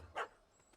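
In Witcher 3, a dog gives a single short, sharp bark up close. Faint background ambience surrounds it.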